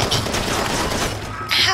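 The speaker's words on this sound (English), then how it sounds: "Stop shooting at me!" Enemy gunfire in Far Cry 2 crackles in a rapid, dense burst of shots, loud and close, with a sharper crack near the end.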